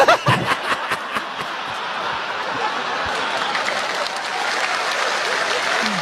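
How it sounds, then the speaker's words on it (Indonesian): Audience applause at a stand-up comedy show, sharp claps at first settling into a steady wash of clapping with faint chuckles from the crowd. "tepuk tangan sekali lagi"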